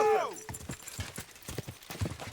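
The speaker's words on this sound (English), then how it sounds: "I really like that horse." Horse hooves clip-clop in a steady walking rhythm in the medieval game Kingdom Come: Deliverance II, opening with a loud whinny, and a voice talks over the hoofbeats.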